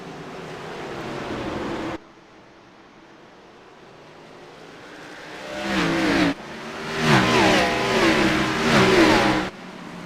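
Xfinity Series stock cars at Martinsville accelerating at the green flag: engine drone builds from a low rumble into a loud, layered roar of several cars passing close, with rising pitch and a brief lull between surges.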